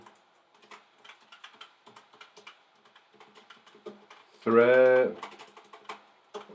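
Typing on a computer keyboard, a quick irregular run of light clicks and taps close by, briefly interrupted by a short burst of speech partway through.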